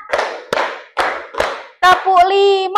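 Four sharp, evenly spaced hand claps from a ninth-grade math class in Indonesia playing a clap game, close and crisp, then a voice speaks right after the last clap.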